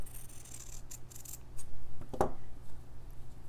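Scissors snip once through red fabric while trimming a square to size for a Christmas slow-stitching project, a single crisp cut standing alone against quiet background rustle.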